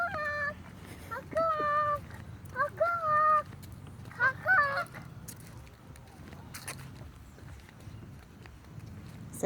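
Several geese honk in short nasal bursts, close by, in a few separate bouts over the first half, then quieter outdoor ambience follows with faint background noise.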